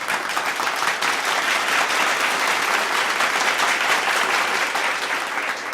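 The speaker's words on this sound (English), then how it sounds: "You got to give me a round of applause" A round of applause from an improv comedy audience, dense steady clapping that fills the whole stretch without a break.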